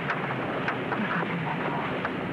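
Steady rain falls in a scene from a 1975 Filipino film, a dense continuous hiss with no breaks that stays fairly loud throughout.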